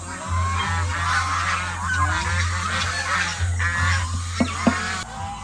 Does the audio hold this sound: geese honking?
yes